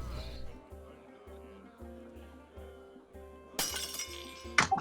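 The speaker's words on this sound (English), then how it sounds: "Oh, sorry, I dropped my glass." A drinking glass is dropped and shatters in one sudden crash with a brief tinkle of fragments, cutting through a quiet low background hum.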